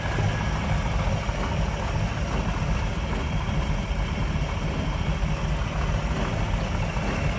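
A 348 V8 in a 1958 Chevrolet Impala Sport Coupe idles with a steady, even rumble, close by and unbroken, with no talking.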